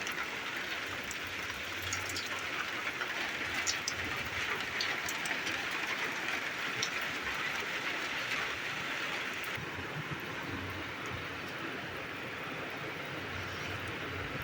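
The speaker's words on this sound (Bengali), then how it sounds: "এই যে মেঘলা হয়ে আছে আর বৃষ্টি পড়ছে" Steady rain falling outside a village home on a cloudy morning, a dense even patter and hiss lasting throughout at moderate volume, with occasional faint drips and no speech.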